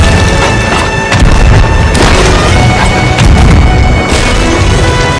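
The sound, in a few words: blunderbomb explosions hitting a boat in Sea of Thieves video game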